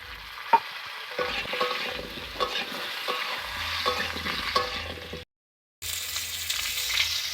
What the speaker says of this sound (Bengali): এখন আমি আলুগুলোকে একটু ভেজে নেব।